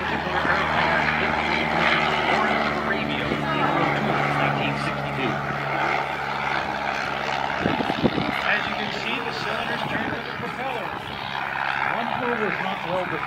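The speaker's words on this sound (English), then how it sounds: "here comes the rumpler heading up" Rumpler WWI German photo reconnaissance airplane flying overhead, a steady droning propeller engine hum with a rumbling low tone throughout, a brief thump midway, and someone talking over it.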